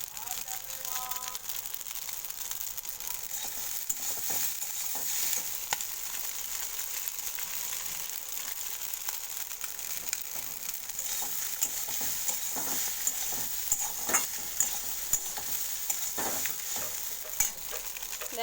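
Pasta with Maggi masala frying and being stirred in a pan, a continuous sizzle broken by repeated scraping and clacking stir strokes, with a voice talking over it briefly.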